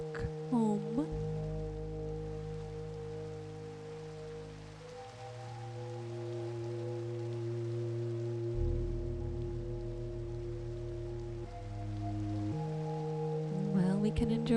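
Steady rain falls in Minecraft as a soft, even wash under sustained tonal ambient music, continuous and moderately quiet throughout with no talking.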